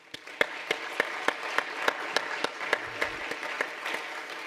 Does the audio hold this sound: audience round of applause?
yes